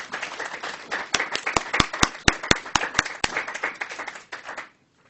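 An audience at a Brown University lecture applauds to welcome the speaker Li Shiguang, a burst of crowd clapping with several sharp nearby claps that swells and then fades out abruptly.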